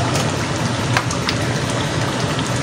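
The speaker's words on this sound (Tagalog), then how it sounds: "Ayan, kumukulo-kulo na po." Dense, continuous bubbling and crackling of a pot of chicken afritada with ketchup simmering at a boil, close and steady with no voices.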